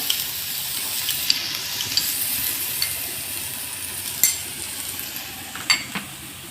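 A soft, steady sizzle of ginger paste frying with onion in a pan, with occasional scrapes and light clinks of a spoon stirring.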